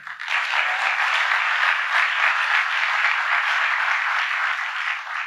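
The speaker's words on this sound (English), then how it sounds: "And look, you can cheer. It's all right." A large audience at a presidential speech by Joe Biden breaks into sustained applause and cheering, a dense, even roar of clapping that holds steady for several seconds before starting to fade.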